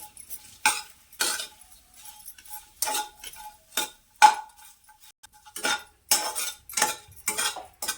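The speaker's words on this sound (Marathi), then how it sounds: "तर दगडफूल सुद्धा आहे ना त्याच तेलावर भाजून घेते मी" Dagadphool (stone flower) roasts in oil in a pan, sounding as a series of sharp scraping and clinking strokes from a utensil against the metal pan, spaced irregularly against a quiet background.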